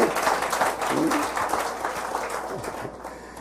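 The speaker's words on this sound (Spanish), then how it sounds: "De un aplauso al Señor para que se anime y se alegre" Church congregation applauding during a worship service, a dense patter of many hands clapping throughout, loud and close, with voices mixed in underneath.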